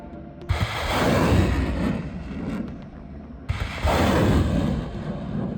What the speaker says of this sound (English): Then the ammunition inside the equipment exploded,